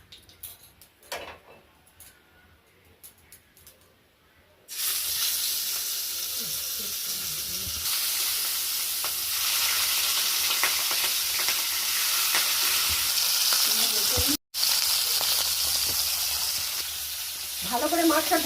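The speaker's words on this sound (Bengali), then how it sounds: "ভালো করে মাছটা ভেজে নে" Katla fish pieces dropped into hot oil burst into a loud, steady sizzle after a quiet start with a few faint clicks. The frying continues close by with only one brief break.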